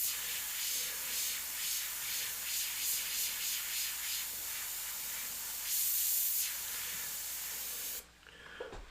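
An airbrush hisses in close, steady bursts while spraying paint freehand onto a skull design, with a brief louder spray before the hiss cuts off near the end.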